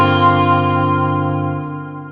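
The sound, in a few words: Strymon Nightsky reverb pedal, Glimmer lower harmonics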